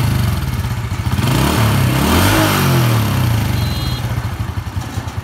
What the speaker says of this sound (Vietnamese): Nổ máy cho các bạn nghe.